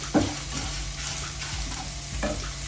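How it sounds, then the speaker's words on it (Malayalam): Onions, potato and drumstick frying over low heat in a pan for a traditional Kerala meal, a steady close sizzle with a few scraping stirs of a spoon against the pan. "ഇതെല്ലാം നല്ലതുപോലെ ഒന്ന് വറുത്തെടുക്കട്ടെ."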